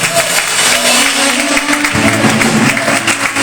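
A church congregation applauds loudly and steadily throughout, dense clapping filling the space with a low hum beneath it.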